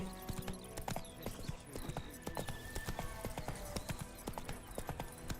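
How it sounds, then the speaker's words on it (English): Horse hooves galloping in The Witcher 3 video game, a fast, rhythmic clip-clop of steady beats carrying on throughout, with game ambience and some speech in the background. "Run, Roach"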